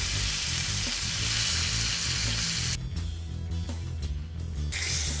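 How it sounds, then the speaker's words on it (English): The sides of a large blade steak sear in a hot pan, a loud steady close sizzle and spatter that continues throughout, with a brief quieter dip partway through. "I like to sear the sides too, if possible."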